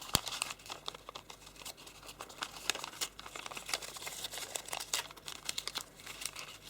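Origami paper being folded into a bat with mountain and valley folds, close, quiet crinkling and creasing rustles in irregular small bursts, with no talking.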